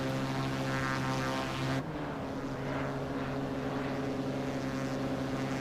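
Steady propeller drone of a simulated Cirrus SR22 light aircraft in X-Plane 12, loud and continuous, with a brief shift in tone partway through, no voices.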